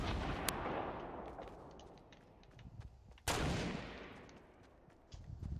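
Gunfire in Fortnite, a few sharp isolated shots including one loud close blast, with faint distant pops and rumbling battle noise in between, no talking.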